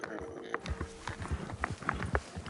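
Horse hooves clip-clop at a quick, uneven gait as a mount veers off course in the Red Dead Online video game, with close, fairly loud thuds under faint background sound.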